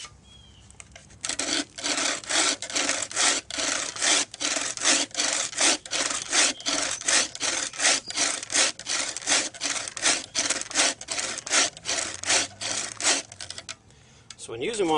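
An improvised bucksaw cuts through wood in steady back-and-forth strokes, loud and close, about two strokes per second for over ten seconds before stopping.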